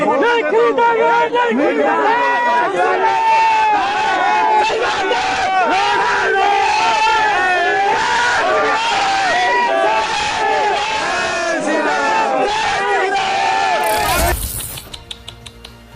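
A large crowd at a street rally shouts and chants together, a loud, dense roar of many voices that runs steadily before cutting off abruptly near the end.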